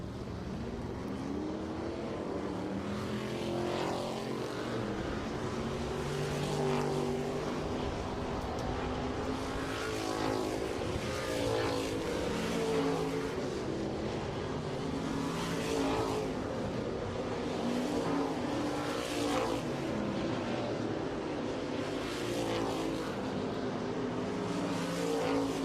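IMCA stock cars turn hot laps at Marshalltown Speedway, a dirt track, in a continuous roar of several engines rising and falling as the cars circle. The sound is distant to mid-range and steady.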